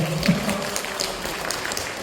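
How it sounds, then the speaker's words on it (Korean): A crowd claps steadily at an apartment residents' general meeting during a prize draw, a brief burst of applause filling the space for a couple of seconds. "박수 크게 주셔야 돼요."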